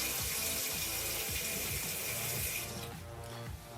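Steady rushing of water pouring from a tap, a continuous broadband hiss that softens slightly near the end.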